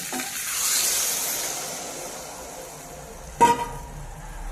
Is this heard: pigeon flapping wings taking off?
no